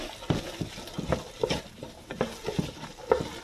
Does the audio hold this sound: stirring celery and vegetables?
yes